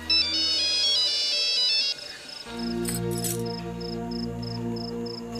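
A mobile phone ringtone for a call from home plays loudly as a repeating electronic melody, first one pattern, then a steady pulsing beep sequence with a low tone underneath, continuing to the end.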